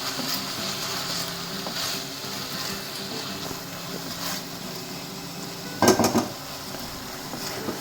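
Chicken lollipop masala of tomato sauce, soy sauce and Schezwan chutney stirred and sautéed in a pan. A low steady sizzle runs under scattered scrapes, with one brief, louder clatter of spoon against metal near the end.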